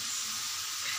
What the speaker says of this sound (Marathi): मी भाजी टाकून परतवून घेतली आणि थोडीशी अशी सुकी होत आल्याच्या नंतर थोडंसं तेल टाकून घेतलं